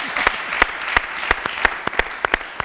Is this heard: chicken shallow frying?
no